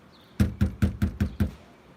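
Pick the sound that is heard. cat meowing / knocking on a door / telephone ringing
knocking on a door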